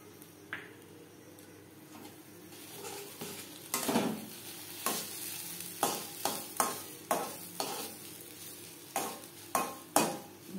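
A spoon stirs cardamom-flavoured milk into semolina for suji halwa in a pan, beginning with soft scraping and building into a regular series of close, clicking strokes against the pan.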